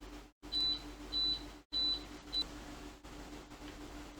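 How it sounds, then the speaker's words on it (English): A kitchen appliance signals that dinner is done with a series of four high electronic beeps at a steady rhythm, set against low room hum and a few brief dropouts. "Sorry about the beeping. That was my dinner being done."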